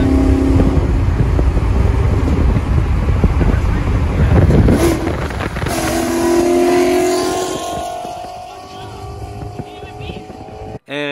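A Ford Mustang drops a gear and accelerates hard away, its engine roaring loudly up close over heavy wind rush and then fading into the distance.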